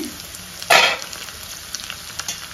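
Bottle gourd frying in a pan, a quiet steady sizzle with one sharp burst of hissing near the start, likely from a lid lifting or a stir, then faint scraping taps, close by and without speech.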